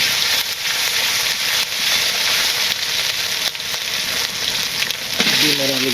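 Onions fry loudly in a pan during simple village cooking, a dense, unbroken hiss of sizzling oil with a few soft stirring knocks near the end.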